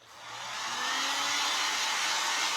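A handheld hair dryer whirs steadily for a few seconds, drying a refurbished thrift-store cross; the broadband blowing noise swells up at the start, then holds loud and even, with no talk.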